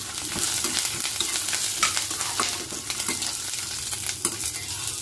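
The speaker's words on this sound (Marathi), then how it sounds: "कढीपत्त्याला मी आधी धुवून नव्हता ठेवलेला, आत्ता घेतला, त्यामुळे त्याच्यात पाणी असल्यामुळे ते तडतडतं." Freshly washed wet curry leaves crackling and spitting in hot oil, a dense, steady sizzle with sharp pops scattered throughout, heard close up and without talk.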